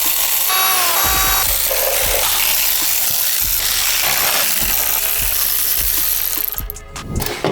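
Valve cover bolts are cracked loose by hand on a BMW N54 engine, with repeated sharp metallic clicks and ratcheting taps spaced through a constant hissing background, and no talking.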